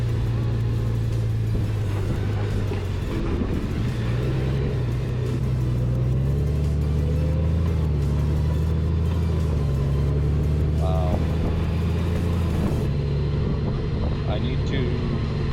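A 2020 Honda GoldWing Tour DCT motorcycle hums along on its first ride, a steady close engine drone rising and falling gently with wind noise over it.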